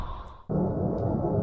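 Space sound recording of the planet Uranus: a steady, dense wind-like roar with a hollow rushing quality, swelling abruptly louder partway through and then holding constant.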